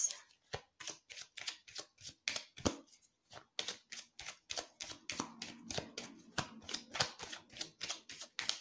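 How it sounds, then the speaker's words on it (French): A Tarot de Marseille deck being shuffled and cut, a close, steady run of crisp riffling card flicks with brief pauses and no talking. "on y va maintenant pour la coupe donc du tarot de Marseille"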